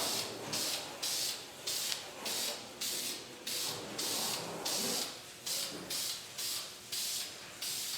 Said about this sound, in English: You might be able to hear my son outside with the air hose.